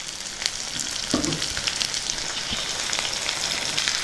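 Ivy gourd pieces for a traditional homemade pickle sizzle in hot oil and are stirred in the pan, giving a steady crackling hiss with a few scraping stirs, close and loud, with no speech.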